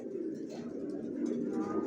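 Pair of racer pigeon chicks in a loft giving soft, close, continuous low coos and burbles, with faint speech in the background.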